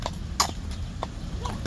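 Horse hooves clip-clop in a slow, uneven rhythm of sharp knocks on a hard surface, fairly close, with a quiet background hiss.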